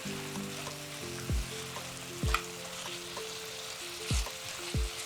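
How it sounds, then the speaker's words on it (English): Butternut mash with added butter bubbles gently in a pot, a soft continuous sizzle with a few low plopping bursts spaced a second or so apart over a faint background hum. "So I've added more and we're just gonna let it simmer for a little bit"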